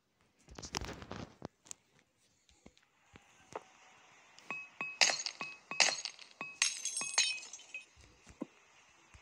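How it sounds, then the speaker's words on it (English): Glass shatters in a video game: a sharp crash is followed by a scatter of bright tinkling shards and clinks falling in bursts over several seconds, fairly quiet overall with no talk. "I really do like the sound of glass breaking in this game."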